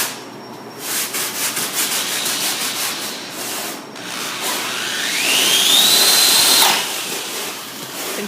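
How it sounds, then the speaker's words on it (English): A power tool cuts holes in a plastic lid for a hydroponics system, giving a loud, close, continuous grinding whir with short rhythmic bursts at first, then a rising whine as it bites through. "getting ready to cut some more holes in a lid like these ones he's just made"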